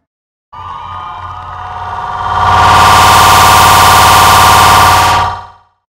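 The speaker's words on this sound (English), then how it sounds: "Let's give one more applause for all of our senior footballers." A crowd at a high school football game between Winslow and Burlington Township cheers for senior players, starting as a steady roar with a ringing tone beneath and swelling louder midway before cutting off abruptly.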